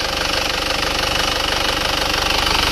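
An Isuzu Panther diesel engine runs steadily while still only moderately warm at 62 degrees, a loud, continuous rapid knocking clatter with no talk over it.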